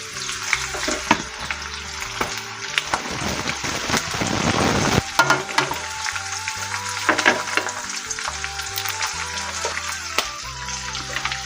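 Chopped green chilies frying in hot oil with onions, a crackling sizzle broken by scattered pops and stirring clatter, with a louder burst of hissing partway through, close by and with no speech.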